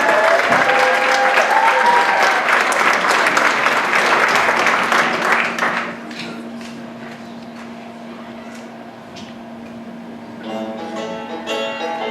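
Loud, dense applause from an audience fills the first half, then fades to a quieter room with scattered clapping and background murmur.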